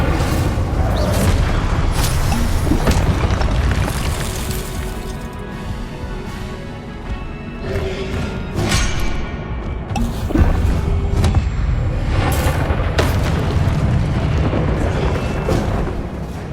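Fire and blasting spells are cast in the Hogwarts Legacy game, sending out repeated booming blasts, cracks and crashing impacts over about sixteen seconds, up close and loud, with no pause between them.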